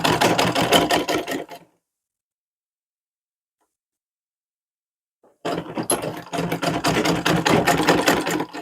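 A sewing machine stitches a folded seam on a suit, with a short burst of rapid stitching, several seconds of silence, then a longer, steady run of needle clatter up close.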